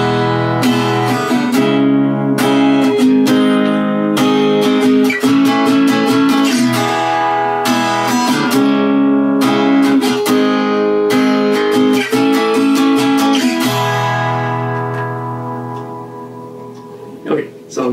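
Strummed electric guitar barre chords, mostly E-shaped, ring out steadily in a repeating rhythm, loud and close, fading away near the end.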